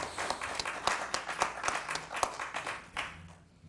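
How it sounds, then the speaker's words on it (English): Applause from a city council meeting audience over a proposed new Riviera Beach City Hall, a room of hands clapping in a steady, moderately loud patter that thins out and fades toward the end. "I think that we owe you an applause for your efforts."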